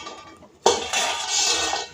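A metal lid clanks onto a cooking pot of gobi gravy on the stove, one sharp clink after a quiet moment, followed by a steady hiss of simmering.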